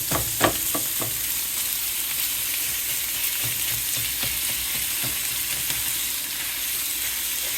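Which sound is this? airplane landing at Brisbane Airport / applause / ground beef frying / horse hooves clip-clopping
ground beef frying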